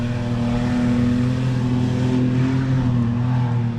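A car engine revs hard while drifting on desert sand near Elephant Mountain in AlUla, Saudi Arabia, a loud, steady, close engine drone with a deep rumble that holds throughout.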